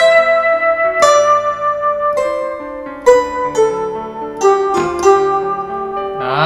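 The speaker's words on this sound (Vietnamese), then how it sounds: "Đó là tiếng đàn tranh trộn với tiếng sáo." A Kurtzman K250 keyboard sounds a mixed zither and flute voice in a short melodic phrase, plucked note onsets over breathy sustained tones in an uneven rhythm, close and clear with no talking.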